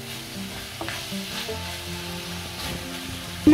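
Meat sizzling loudly with tomato, chili and garam masala in a hot pan, a steady close fry broken by a few stirring knocks and a sharper clank at the end.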